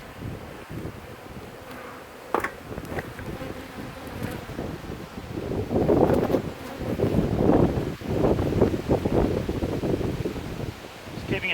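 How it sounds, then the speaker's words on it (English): Gusty wind buffets the microphone beside an open, overcrowded beehive while bees buzz around it. The broadband rushing swells and fades in waves, loudest toward the middle, with faint thumps mixed in. "Just keeping it down low because it's just got a bit windy."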